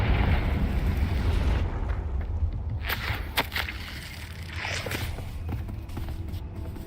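Confringo blasting spell from Hogwarts Legacy going off amid a loud, steady rumbling roar, with a few sharp crackling bursts partway through and no voices.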